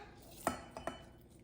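A utensil knocks a few times against a pot while white and red rice are being mixed, giving three faint, close clinks in otherwise quiet surroundings.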